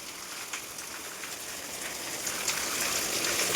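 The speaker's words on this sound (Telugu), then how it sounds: "వర్షం అయితే బాగా దంచేస్తుంది, ఈ వర్షం పడుతుంది కదా" Heavy rain pours steadily during house wiring work, a dense, even hiss that swells slightly louder toward the end, with no voices over it.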